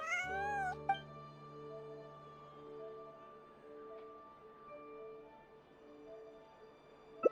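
A cat in Genshin Impact lets out a single rising-and-falling meow at the start, followed by a soft background music bed with sustained tones, then a faint click at the very end.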